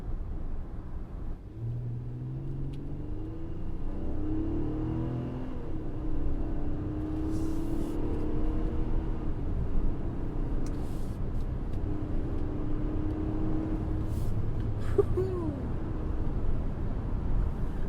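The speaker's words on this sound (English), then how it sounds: "And then the V6 engine note too, because it's not a turbo 4-cylinder" The naturally aspirated V6 engine of an Infiniti QX60 hums steadily from inside the cabin while driving, a low continuous drone with gentle rises in pitch as it pulls along.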